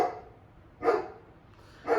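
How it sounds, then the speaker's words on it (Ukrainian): A dog at home barks twice, a second apart, each a sharp, moderately loud bark standing alone against a quiet room. "Наша собака в істерике, все."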